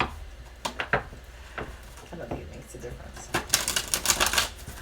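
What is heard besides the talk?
shuffling tarot cards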